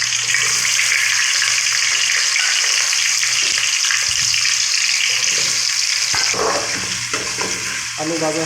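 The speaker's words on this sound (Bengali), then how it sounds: "আলু ভাজা হচ্ছে" Potatoes frying in hot oil, a steady bright sizzle that continues unbroken, with a few clatters of stirring near the end.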